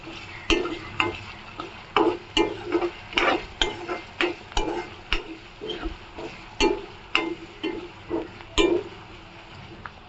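Onions fry in a pan with salt until light brown, a soft sizzle broken by a regular series of scraping stirs and clinks of a spatula against the pan, about one every second.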